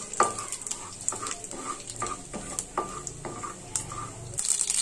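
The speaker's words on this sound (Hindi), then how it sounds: "राई हमारी अब चटकने लगी है" Mustard seeds crackle in hot mustard oil in a kadhai as a poha tempering begins, with irregular sharp pops and spits over a low sizzle, close by, alongside a few light metal clinks.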